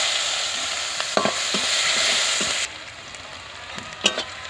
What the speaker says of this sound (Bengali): জিরা ভাজা হয়ে গিয়েছে, এবারে দিয়ে দেবো পেঁয়াজ কুচি।